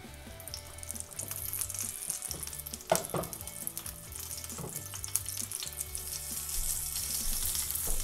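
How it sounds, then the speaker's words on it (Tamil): Fish wrapped in banana leaf, karimeen, frying in hot oil: a steady crackling sizzle with bursts of popping and spatter, close and continuous throughout, with no voices. "இப்போ இந்த எண்ணெயில் வந்து நம்ம இந்த இலையோடு போட்டு நம்ம பொரிச்சு எடுத்துடலாம்."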